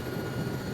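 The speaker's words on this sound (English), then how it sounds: "Should I wait till I get off the helicopter?" Helicopter engine and rotor in a military-style video game, a steady broadband roar that fills the whole moment without pause or any speech over it.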